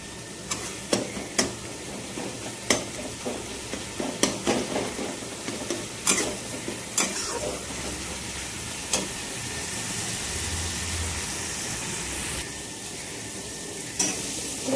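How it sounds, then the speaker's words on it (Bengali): Masala paste with tomatoes is fried and stirred in a pan, a spatula scraping in quick sharp strokes over a continuous sizzle, the strokes thinning out until mostly steady frying remains. "মশলাটা কষে নিচ্ছি ভালো করে"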